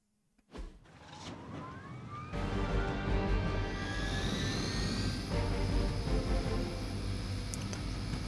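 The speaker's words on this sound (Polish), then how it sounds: "Zatrzymaj helikopter." Helicopter in the video game Marvel's Midnight Suns: a loud, steady engine roar with rising turbine whines that build and hold throughout, close and continuous.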